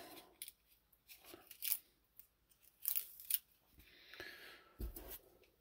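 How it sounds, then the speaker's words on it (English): Masking tape being peeled up from a painted HO scale GE 70 tonner model shell, quiet close bursts of tearing and crackling separated by near silence. "put the knife down, and then resume pulling the tape up"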